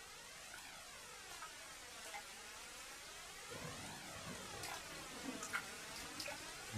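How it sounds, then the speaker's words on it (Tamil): Rain falling in a Naruto anime episode, a faint, steady hiss with occasional soft drips, no voices. "இந்த மழை இப்போதைக்கு நிக்கிற மாதிரி தெரியலையே."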